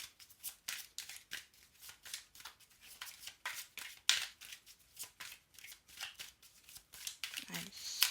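Oracle-style feeling cards are shuffled in quick, repeated soft riffling bursts, faint and close, with a brief lower thump near the end.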